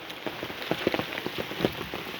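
Steady rain patters and splashes on a surface in Uttarakhand, India, with scattered louder drops, and no one talking.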